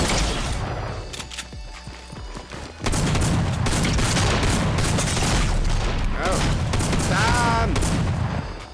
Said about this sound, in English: someone's definitely shooting at me